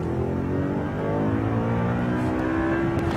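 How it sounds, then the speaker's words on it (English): Audi R8 with a manual gearbox revs hard and steadily, a loud, close engine note climbing in pitch across the whole stretch with dense harmonic layers, no voices over it. "So to make it sing, you gotta really rev it."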